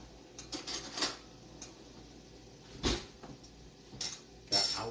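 Small dish and little spoon handled in a home kitchen while making French lentil soup with sausage, giving a few scattered light clinks and knocks at a moderate distance.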